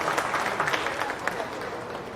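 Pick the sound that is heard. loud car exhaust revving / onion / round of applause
round of applause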